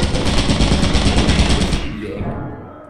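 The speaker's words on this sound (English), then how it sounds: "Stop shooting the funny gun." Rapid automatic gunfire from a gun in the video game Lethal Company, a loud, dense, continuous burst of shots for nearly two seconds that then stops abruptly, leaving a fading tail.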